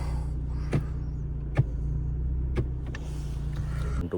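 A warmed-up car engine idles steadily with a low, constant hum beneath a few faint clicks and knocks, heading out on a winter day in Toronto.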